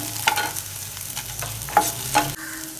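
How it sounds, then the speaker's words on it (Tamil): Urad dal is stirred and fried in a pan for chutney, a soft steady sizzle with several scraping strokes of a spoon against the pan, heard close with no talk. "நல்லா வதக்கிக்குவோம்."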